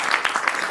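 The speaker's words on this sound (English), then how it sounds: "So round of applause for Mr. Yadav, please." An audience at a book launch claps in a brief burst of applause, with dense overlapping hand claps from a room full of people.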